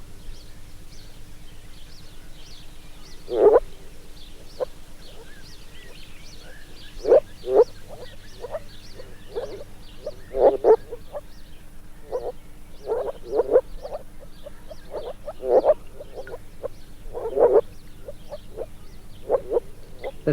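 Invasive frogs in an English pond call to their mates, giving repeated croaks in loose clusters over a steady low background hum, some calls near and loud, others softer.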